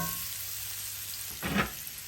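Onion frying in a pan gives a steady sizzle throughout, with a brief louder burst of stirring about two-thirds of the way through, close and clear with no talking.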